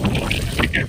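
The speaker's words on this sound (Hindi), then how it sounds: "कितना अच्छा हवा चल रहा है।" Strong wind buffets a microphone outdoors in a rural village, with a low rumbling roar throughout and short voices or sounds breaking in above it.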